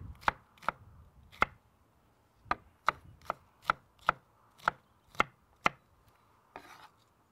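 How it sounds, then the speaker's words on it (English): An onion is chopped with a knife on a board: about a dozen crisp, close knocks in an uneven rhythm, some quick pairs and some spaced apart, over a quiet background. "with this onion, you're just gonna chop it up nicely"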